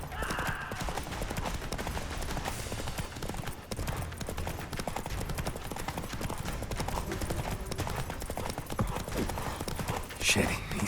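Roach, a horse in the video game The Witcher 3, gallops with a rapid, continuous clatter of hooves, loud and close, while other game sounds and voices mix in.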